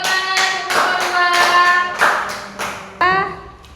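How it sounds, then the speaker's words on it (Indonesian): A classroom of students claps for a presenting student group, a burst of dense hand applause with sharp individual claps rising and falling over about four seconds. "Beri tepuk tangan untuk kelompok"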